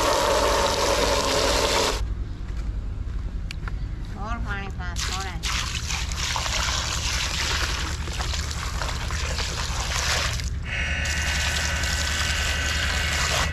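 Water poured over mangoes and ice, a close liquid pour and slosh heard under a voice talking, with a brief dripping, trickling stretch in the middle.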